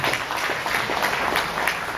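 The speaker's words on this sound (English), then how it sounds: "Let's give her a round of applause." Audience applause at a community listening-tour meeting, a steady wash of many hands clapping from a room of people, sustained at moderate loudness throughout.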